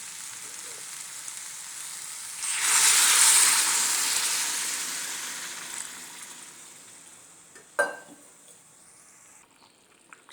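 Water poured into a pan of frying jackfruit and potato curry sets off a sudden loud hiss that swells and then slowly fades to a softer simmering sizzle, followed by a sharp knock near the end.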